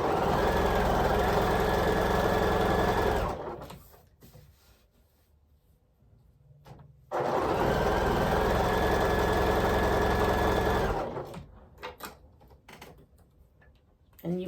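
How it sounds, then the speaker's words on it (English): A sewing machine stitches pre-cut quilt squares in two loud, steady whirring runs of several seconds each, separated by quiet handling noises and small clicks. "I'm going to come in here and sew 1/4 inch away from both sides again."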